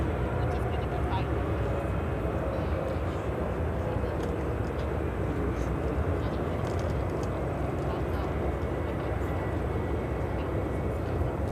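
A Kalitta Air 747-400 freighter bound for Seoul spools up its jet engines at O'Hare, a steady distant roar under a continuous outdoor wash.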